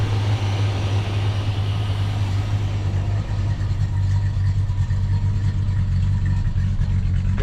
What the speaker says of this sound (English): think it's the AC pump making that racket.